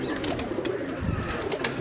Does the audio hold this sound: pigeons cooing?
yes